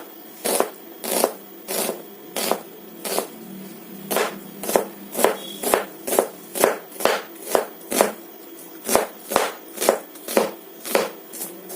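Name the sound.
chopping ingredients with a knife for mutton curry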